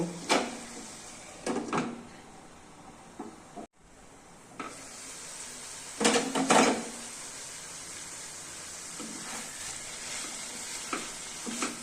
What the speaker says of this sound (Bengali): এবার আমি একটু নেড়ে নিব, নেড়ে একটু ঢাকা দিই, সামান্য একটু ঢাকা দেব।